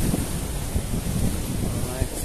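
Ocean waves and wind at a fishing spot on the Omani coast, a steady roar of surf with buffeting wind noise on the microphone.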